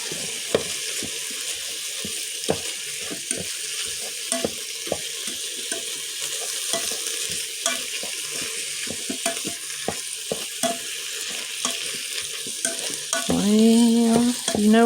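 Taco salad ingredients sizzle and fry in a pan, a steady loud hiss broken by scraping stirs and clinks, with a brief tonal squeak near the end.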